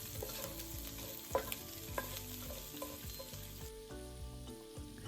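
Garlic and ginger frying in hot oil while being stirred for a peanut curry chicken, with a steady close sizzle under scraping stir strokes and a few sharper clinks of the utensil against the pan.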